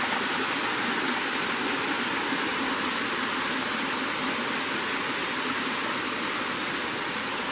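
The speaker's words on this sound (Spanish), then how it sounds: "Aquí vemos un nacimiento de agua, un arroyo pequeño" Small natural spring-fed stream flowing in Cañón del Pato, a steady, even rush of water that stays close and constant with no talk over it.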